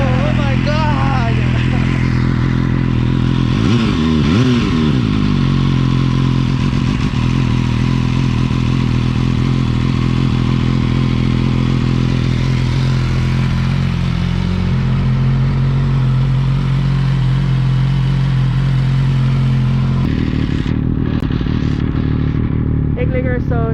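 Genuine Japanese big bike motorcycle engine running loud and close, a steady deep throb with a surging rev near the start and a rougher shift in tone toward the end.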